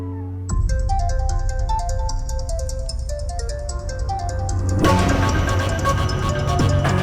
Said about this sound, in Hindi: प्लीज फोन उठाओ नकुल प्लीज।